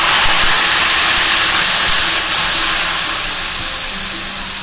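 Tamarind water poured into a hot pan for ginger thokku, producing a loud, steady, broad sizzle and hiss that slowly fades over a few seconds.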